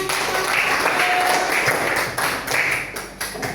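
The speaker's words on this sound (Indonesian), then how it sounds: "Oke, beri tepuk tangan." A classroom of students claps together in a continuous, busy patter that stays fairly loud throughout, with a faint voice mixed into the noise.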